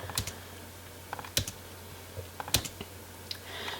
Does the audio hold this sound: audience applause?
no